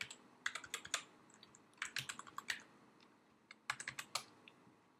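Typing on a computer keyboard while entering text in Word 2011 on a Mac, with bursts of quick, close key clicks separated by short pauses, heard alone without speech.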